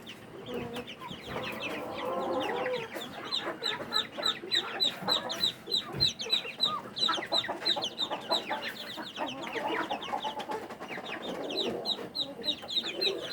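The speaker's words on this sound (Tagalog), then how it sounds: "mga chicks ng native chicken" Dense chorus of white native chicken chicks peeping continuously in a brooding cage, many high, rapid chirps overlapping throughout at close range, with occasional clucks mixed in.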